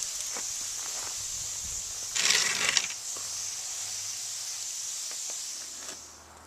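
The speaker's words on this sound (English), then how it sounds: "you want to make sure you use a fine spray and let the water soak through" A soft steady hiss of fine water spray watering a Euonymus bonsai runs throughout, with a louder burst of spraying partway through and faint clicks of a sprayer.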